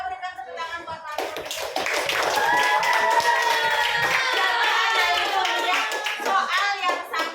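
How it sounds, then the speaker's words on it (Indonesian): Classmates clap for a participant in a classroom lesson, a fairly loud run of handclaps that swells after a quiet opening and carries on for several seconds, with some voices mixed in. "berikan tepuk tangan buat Bapak"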